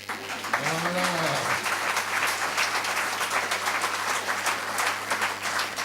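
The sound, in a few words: audience applause in church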